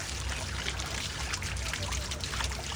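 Water running from a pipe during a child's outdoor bath, a continuous close splashing trickle at a steady, fairly loud level with no pauses.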